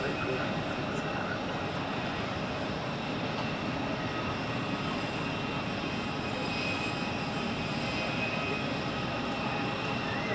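Helvetic Embraer jet departing Zurich Airport, a steady broadband engine roar holding at constant loudness throughout, with a faint high whine on top and voices in the background.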